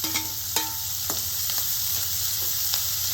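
Green chillies fry in a pan, a steady close sizzle with a few sharp clinks of a utensil against the metal breaking the constant hiss.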